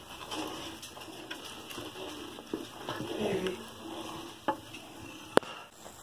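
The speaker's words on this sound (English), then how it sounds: "we're going to stir constantly because we want to make sure it doesn't stick to the bottom of the pan" Cuban rice pudding (arroz con leche) with condensed and evaporated milk being stirred constantly in a pan as it thickens, giving soft, quiet scraping and bubbling with a few sharper spoon knocks against the pan.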